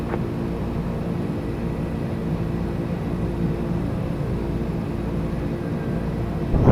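Twin turbine engines of a Beechcraft Turbine Duke spooling up for takeoff in MSFS 2024, a steady, even drone with a low rumble and faint whine, constant and fairly loud throughout.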